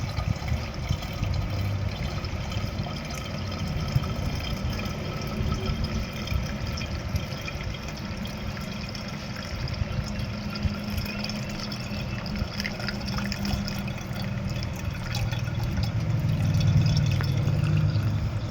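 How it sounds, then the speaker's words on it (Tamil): Lemon juice poured through a strainer to remove pulp and seeds, a steady close liquid trickle and splash running continuously, growing slightly louder near the end, with no talking. "இதை வந்து நல்லா ஒரு வடிகட்டி வச்சு வடிகட்டிக்கிறோம்"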